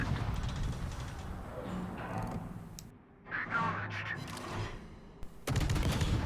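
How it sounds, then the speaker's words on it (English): Naval gunfire from the destroyer USS Somers in World of Warships, a steady roll of battle noise with a burst of higher activity mid-clip and a loud return of heavy firing at the end. "so I'll try to get a firing in with the guns"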